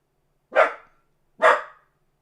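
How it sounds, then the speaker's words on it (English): A dog gives two sharp, loud barks about a second apart, close by, with silence before, between and after. "Oh, Max barked, so I don't know"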